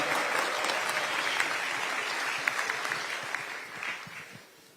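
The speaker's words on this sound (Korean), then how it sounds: "큰 박수로 환영해 주시면 좋겠습니다" A political party gathering in Gyeonggi Province greets its guests with warm applause: a crowd claps steadily at moderate volume with a few sharper individual claps, then the sound fades toward the end.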